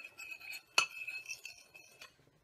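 Light metallic clinks of a spoon stirring instant coffee in a saucer, with one sharp clink standing out among softer scraping taps.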